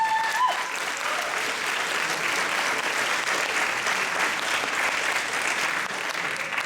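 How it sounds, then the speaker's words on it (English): A high school graduation audience in San Francisco claps, a dense, sustained round of applause, loud and steady throughout, with a faint voice at the start. "a round of applause for them as well"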